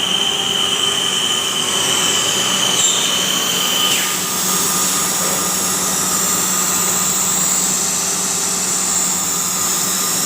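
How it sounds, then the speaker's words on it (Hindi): A PVC pipe extruder's main screw runs continuously while producing 6-inch pipe, a loud steady mechanical drone with a high whine that holds unbroken throughout. "ये मेन स्क्रू रन हुए हैं"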